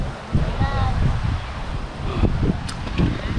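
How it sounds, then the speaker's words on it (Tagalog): Gusty wind sweeps across Fortune Island in Nasugbu, Batangas, on a drizzly morning, a rough low rushing that swells and falls, with voices talking briefly over it. "Lakas ng hangin."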